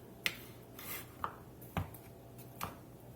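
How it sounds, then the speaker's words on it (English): A knife cuts through a rack of beef ribs between the bones, giving four or five sharp, separate clicks and taps spaced unevenly, close and fairly quiet with no talking. "we're just going to cut these in half"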